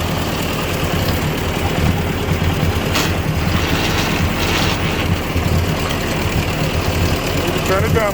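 A 1957 Ford 841 tractor engine runs steadily during a PTO check, a loud, close, continuous rumble with a knocking pulse that fills the whole stretch.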